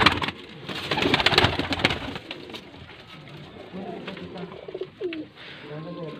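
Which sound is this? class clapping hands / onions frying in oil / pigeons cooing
pigeons cooing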